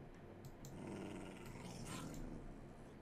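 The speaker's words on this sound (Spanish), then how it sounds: "Mola demasiado el lobo escopeta, este raro." A shotgun wolf in a Minecraft mod giving a low, steady growl that rumbles on without a break, close and fairly loud with no one talking.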